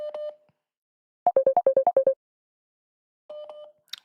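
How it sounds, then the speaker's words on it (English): A mobile phone ringing with short electronic tone bursts, a quick run of eight rapid beeps in the middle and further tones at the start and end, heard alone and fairly close. "why is mum ringing me"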